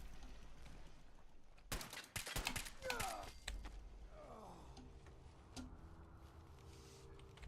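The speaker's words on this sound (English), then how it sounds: "he's shooting at me" In Fallout 4, an enemy fires at the player in a handful of sharp, fairly close shots clustered near the start, then the scene fades to quieter ambience with scattered distant cracks.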